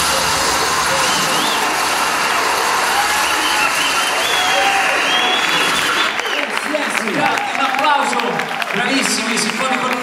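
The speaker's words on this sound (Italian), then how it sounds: "un applauso" Applause and crowd noise from an audience at the Livorno Music Award 2016 fills the hall, dense and continuous, with voices talking over it as the clapping thins out.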